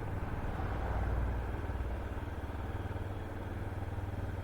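A BMW motorcycle engine, just out of winter storage, idles nearby with a low, steady chugging rumble and slight unevenness, prone to stalling without revving, no talk over it.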